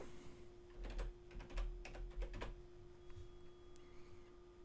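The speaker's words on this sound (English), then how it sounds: "we're just going to go into the search box here and type chatbot" Quiet, close keystrokes on a computer keyboard tap out a short burst of typing, then fall silent over a low steady hum.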